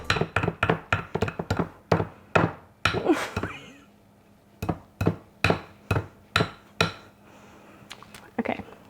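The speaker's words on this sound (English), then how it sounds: "Hopefully our cream cheese is soft enough to use a whisk." A hand whisk beats stiff cream cheese in a bowl in a rapid series of sharp clacking strokes. The strokes pause briefly midway, then resume in an even rhythm close by.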